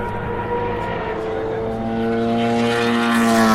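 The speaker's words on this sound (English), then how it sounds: "That's a Judd BMW engine." An LMP2 prototype race car with a Judd BMW engine passes, its steady droning engine note holding and then swelling louder toward the end as it approaches.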